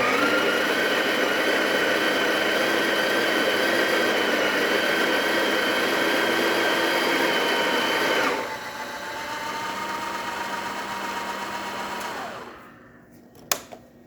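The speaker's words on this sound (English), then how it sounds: "now that we got coffee in the machine, we are going to grind a little coarse" A Breville coffee grinder grinds beans coarse with a steady, loud motor whine for about eight seconds, then runs lighter and trails off, ending with a couple of sharp clicks.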